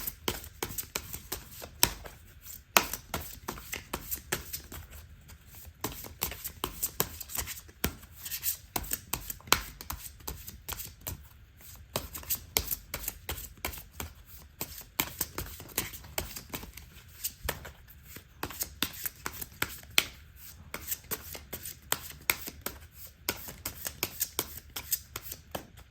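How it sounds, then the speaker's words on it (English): A Lenormand card deck shuffled at length at close range, with rapid riffling bursts and soft slaps repeating unevenly throughout, quiet and with no talk. "I have shuffled this deck quite a long time."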